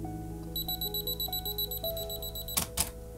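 A camera's 2-second self-timer beeps in a rapid, even series of high, close chirps for about two seconds, followed by two quick shutter clicks, with a faint tonal hum underneath.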